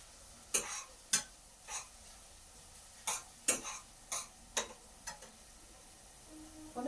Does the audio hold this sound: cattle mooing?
no